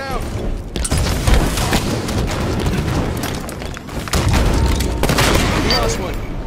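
Grenade explosion in the Halo 5: Guardians video game, a heavy booming blast within dense, continuous game combat noise with rapid gunfire, loud and sustained across the clip.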